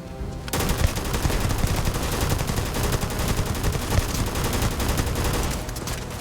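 Automatic weapons in the space video game Starfield dump full magazines: a loud, continuous rapid-fire rattle of gunshots starting abruptly and lasting several seconds without pause.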